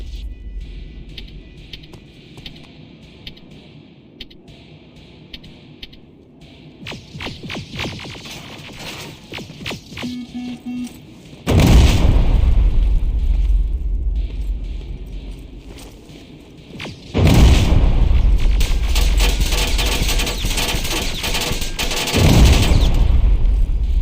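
Gunfire and explosions in the shooter Terminator: Resistance: scattered sharp shots and bursts first, then three loud, sustained blasts of heavy fire and rumbling explosions.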